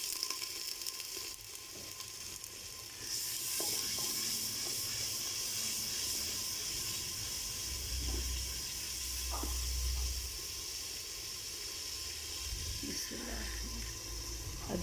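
A pan of spiced chicken with red chili, black pepper and coriander sizzles and hisses steadily after a little water is added, quiet but continuous, with a few faint clinks.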